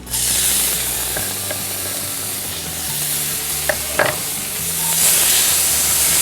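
Quartered tomatoes sizzle steadily in a frying pan with a continuous hiss, broken by a few clicks and scrapes of stirring around the middle.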